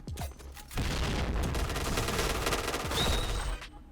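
Dense, rapid gunfire with booming blasts fills the mix, loud and continuous after a brief quieter start, sounding like a hectic firefight in a PB video game match.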